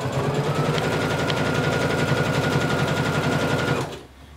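A sewing machine stitches pleats on a kimono in a fast, continuous mechanical chatter lasting nearly four seconds, then stops abruptly.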